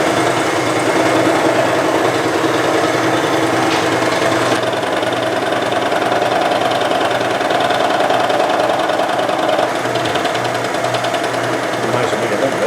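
Steady machining hum from skimming the beat-up surface of a steel vise jaw, a continuous mechanical drone with an even whine and faint rhythmic pulsing underneath, loud and unbroken throughout.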